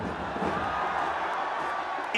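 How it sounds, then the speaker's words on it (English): A packed cricket stadium crowd at a Legends League final between Asia Lions and World Giants sends up a steady, dense roar of cheering, with a voice speaking over it. "And the crowd loving every moment."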